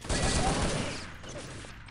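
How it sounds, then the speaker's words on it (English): A grenade blast in an online tactical shooter match goes off as a sharp, close burst with a short rumbling decay that fades within about a second. "Oh, nice nade."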